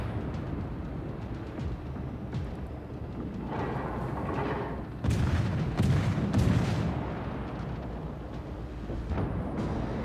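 Deep booming naval gunfire from a Clemson-class destroyer in World of Warships rolls over a constant low rumble of engines, with a heavier burst of blasts partway through.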